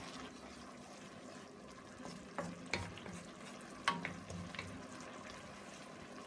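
Mushroom risotto with stock and a stock cube is stirred in a pot on a gas hob, with a steady bubbling simmer and a few sharper scrapes and knocks of the spoon against the pan.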